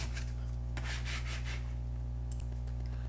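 A squeegee scrapes vinyl decal transfer tape down onto a patriotic sign in several quick, close rubbing strokes over a steady background hum, then goes quiet.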